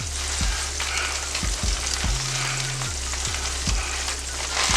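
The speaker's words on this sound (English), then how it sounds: "So that's all my fish. We're going to fry it up." Fish fillets for tacos frying in a pan of hot oil, a steady close crackling sizzle broken by a few dull knocks and clatters of the pan or utensils.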